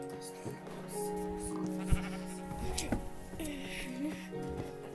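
A Minecraft goat bleats several times, wavering and nasal, amid faint ambient clicks and tones from the game.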